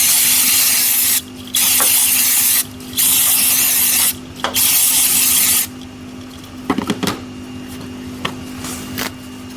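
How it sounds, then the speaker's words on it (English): Brake cleaner sprays from an aerosol can onto the back of a truck's electrical connector in several loud hissing bursts of one to two seconds each. Faint clicks and handling noises follow once the spraying stops. "I'm gonna use this brake clean to clean the back of the connector"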